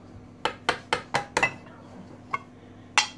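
A bowl and cutlery clink while a syrup sponge pudding is served: five quick, sharp clinks in a row, then a lone tap and a final clink, close and clear against a quiet room.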